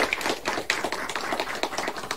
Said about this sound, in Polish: Także brawa przede wszystkim dla pani doktor.